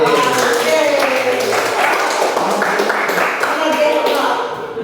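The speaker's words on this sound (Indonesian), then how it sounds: "Oke, tepuk tangan untuk kita semua." A classroom group claps hands together during an English vocabulary lesson, with sharp, scattered claps mixed with voices talking and calling out over them.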